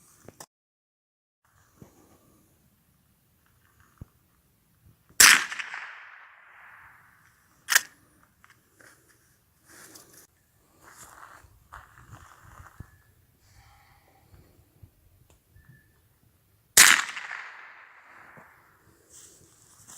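Sharp .22 Long Rifle gunshots fired outdoors at a stainless steel belt buckle: two loud, isolated cracks, each with a short ringing decay, separated by a quieter pop and long stretches of near silence with faint background rustle.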